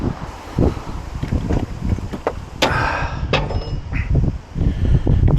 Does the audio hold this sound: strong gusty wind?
yes